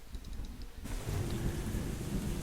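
Thunder rumbles low and heavy in The Crew racing game while rain hisses steadily, the downpour swelling sharply partway through and holding loud to the end; no voices.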